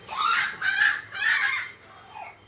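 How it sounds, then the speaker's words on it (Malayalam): A chicken lets out loud, close squawking clucks in four quick bursts, the last one softer, with no talk. "കോഴിക്ക് പ്രാന്തായി"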